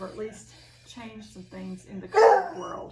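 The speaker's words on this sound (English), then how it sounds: "Apologies for the barking." A dog barks loudly near the end, with a few softer yips earlier, while a person talks throughout.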